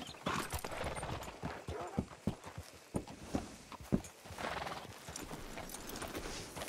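Horse hooves clop in an uneven walking rhythm at moderate distance in Red Dead Redemption 2, with occasional louder hoof strikes and a soft whinny.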